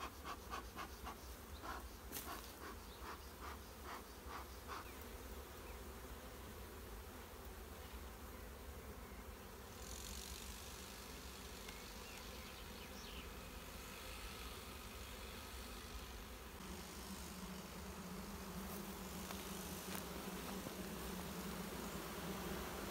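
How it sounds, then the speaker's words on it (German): Honey bees, nurse bees gathering in a beehive box, buzz in a dense, steady drone heard up close, continuous and even throughout with no talk. "Da sammeln sich jetzt gleich ganz viele Pflegebienen an."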